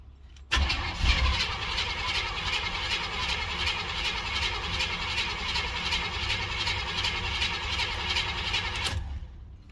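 A 305 H.O. small-block Chevy V8 cranks and catches after one pump of the gas, then runs with a steady loud rumble for several seconds before cutting off.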